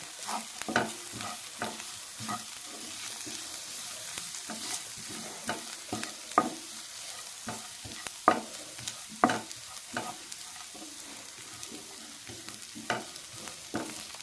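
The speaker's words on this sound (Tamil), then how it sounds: "துருவி வச்சுருக்க தேங்காய் ஒரு கால் முடி அளவுக்கு நான் துருவி வச்சுருக்கேன் அதுவும் சேர்த்து வறுத்துக்கலாம்" Grated coconut frying in a pan with crushed ginger and garlic for a mutton gravy, a steady soft sizzle broken by repeated sharp scrapes and clicks of a stirring spoon, close and fairly quiet, with no talking.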